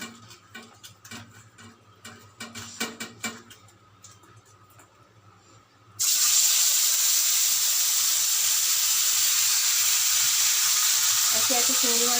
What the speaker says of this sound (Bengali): চিংড়ি মাছগুলোতে একটু নুন আর হলুদ নিয়ে নিয়েছি এগুলো ভালো করে আমি মাখিয়ে এগুলো আমি আস্তে আস্তে ভেজে নেব